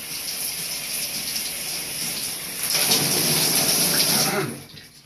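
Freezing cold water pours in a steady rushing stream, growing louder and fuller midway before cutting off near the end, with no voices.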